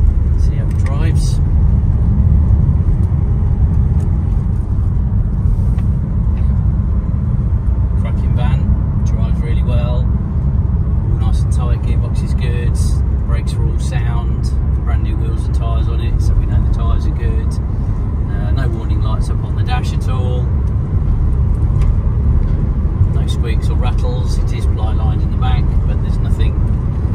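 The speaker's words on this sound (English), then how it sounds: "Just give it a little run up the road and just see how it drives." A 2018 Vauxhall Vivaro 1.6 CDTI 125 Bi-Turbo long-wheelbase van with 32,000 miles drives along a road, heard as a loud, continuous low engine and road rumble from inside the cab for the whole stretch.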